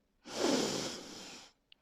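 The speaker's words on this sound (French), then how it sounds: "Inspirez par le nez," A single long, breathy intake of air through the nose lasting about a second, close and fairly loud, followed by a faint short sound, during a guided relaxation exercise.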